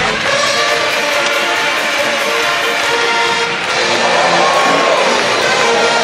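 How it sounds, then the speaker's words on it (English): A college basketball crowd cheers loudly and continuously inside an arena on a Friday night during High Point vs. Clemson, a dense roar of voices with whoops that dips briefly before swelling again. "the crowd on a Friday night in the Palmetto State enjoying themselves"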